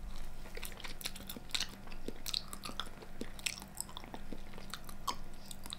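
Raw salmon pickled overnight in beetroot is chewed in big bites, giving soft wet crunching and smacking sounds at close range in irregular bursts, with no talking.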